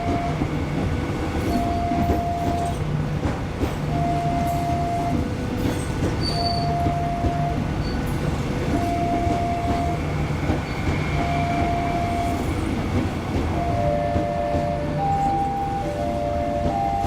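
A new KRL electric commuter train rolls into Yogyakarta's main station with a steady, loud rumble of wheels on rails, light squeals and repeated tonal horn-like or brake whines throughout.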